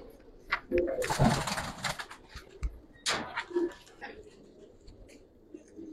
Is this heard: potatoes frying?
no